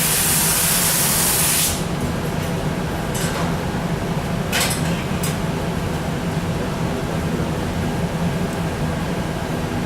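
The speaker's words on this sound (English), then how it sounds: "This is just a little compressed air." A loud, steady hiss of compressed air fills the opening moments, blown onto hot glass to cool it during glassblowing, then cuts off, leaving a low workshop rumble with a few faint clinks and short hisses.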